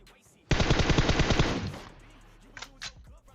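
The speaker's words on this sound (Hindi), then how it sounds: "तो मैं थोड़ी सी गोलियां बर्बाद करता हूं" A fast, loud burst of automatic gunfire from PUBG Mobile rattles off for about a second and a half, followed by a few fainter shots and in-game sounds.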